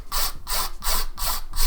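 A hand file rasps back and forth across a workpiece in about five even, close-up strokes, each a harsh scraping burst with brief pauses between.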